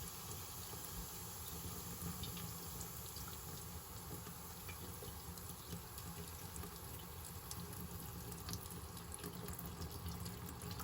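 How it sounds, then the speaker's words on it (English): Tap water pours into a filter in a continuous, fairly quiet rushing wash that stays steady throughout, with no speech. "Turn the water on slowly so it doesn't just start squirting water everywhere"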